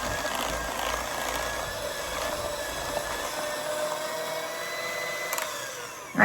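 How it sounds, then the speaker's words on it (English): An electric mixer blends a no-bake peanut butter dessert dip in a bowl, a steady close motor whir that runs throughout and cuts off at the end. "let's stop the mixer."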